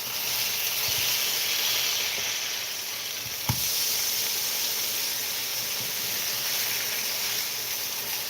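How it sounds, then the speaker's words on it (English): A sugar glaze goes on sizzling in a skillet after the heat is switched off, a steady close hiss with faint crackles and one sharp click partway through. "everything that you hear now is just a slow kiss of sugars warming on the skillet"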